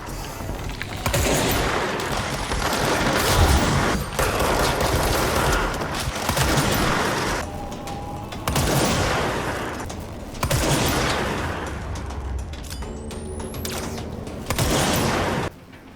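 Loud, snappy gunfire from a weapon in the video game Control, repeated bursts of shots with brief pauses between them, alone without talk.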